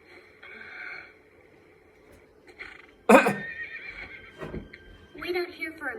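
Horses whinny and neigh in an Attack on Titan anime scene, a loud sharp neigh standing out among shorter calls and snorts, with characters talking around the sounds.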